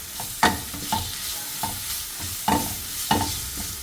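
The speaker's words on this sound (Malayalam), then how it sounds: "അതിലേക്ക് സവാള കൊടുക്കാം." Sliced onion fries in hot oil in a pan while a spoon stirs it, with a steady sizzle broken by about six distinct scraping stirs at an uneven rhythm, close up and with no voices.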